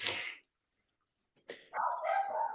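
A dog indoors barks a few sharp times at people walking dogs past the window, a brief burst, a pause of silence, then a louder run of barking and yelping near the microphone.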